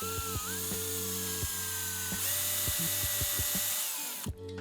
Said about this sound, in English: I'm going to countersink some screws in.